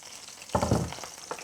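Sudden crackling sizzle as peppers hit hot oil in a frying pan, loud and close, settling into a steady fry.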